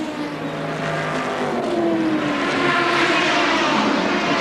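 Race cars roar past at the Spa 24 Hours endurance race in 2006, a continuous loud engine drone that swells and shifts in pitch as the cars go by, with no talking.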